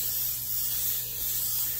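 Spray paint hissing steadily as white paint is applied over black on an artwork, a continuous close airy spray with no breaks and no talking.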